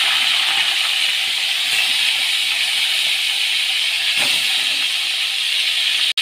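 Rohu fish pieces coated in salt and turmeric fry in hot oil, giving a steady, dense sizzling hiss throughout with no voices, cut off sharply at the very end.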